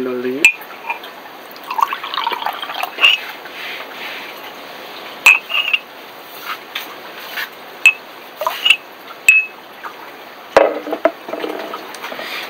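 Water and then an equal amount of Betadine are poured into a glass, giving a series of short splashy drips and trickles spread through the passage, with a voice present at times.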